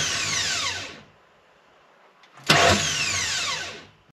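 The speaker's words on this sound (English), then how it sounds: "I think you could hear starter's working. It just isn't actually engaging with the gear" A 1973 VW Super Beetle starter motor spins freely without engaging the gear, in two whirring bursts that wind down with falling pitch, separated by a quiet pause, loud and close.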